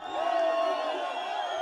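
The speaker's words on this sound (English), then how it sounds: "Dancing and cheering after Robert Mugabe's announcement of resignation" A crowd in Harare dancing and cheering after Robert Mugabe's resignation, a dense roar of voices with whoops and shouts, loud and sustained.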